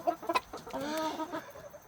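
A 21-month-old molting rooster, a Cornish Cross and American Bresse mix, gives a short run of throaty clucks and a drawn-out murmuring call, close and fairly quiet, with no talking.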